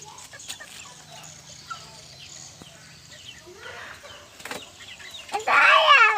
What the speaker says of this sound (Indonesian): Itu ayam.